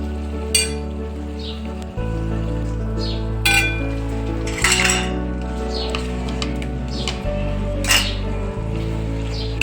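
A spoon scrapes and clinks against a cooking pan while masala and yogurt are stirred for a bhindi masala gravy; soft, scattered metallic taps sit over a steady musical background.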